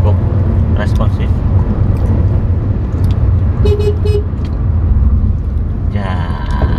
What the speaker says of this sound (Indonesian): Lihat akselerasinya naik kecepatan yang keempat.